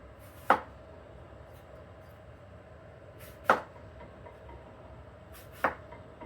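Knife slices a core piece off an apple on a cutting board, three sharp, close thuds spaced a few seconds apart against near silence, no talking.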